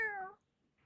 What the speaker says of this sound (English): Meow noises.